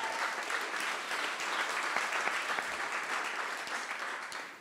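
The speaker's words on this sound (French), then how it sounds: "Vous pouvez les applaudir quand même." Audience applause at a coding bootcamp demo day in Paris, a dense, steady clapping that fills the room at full strength throughout and tapers only slightly near the end.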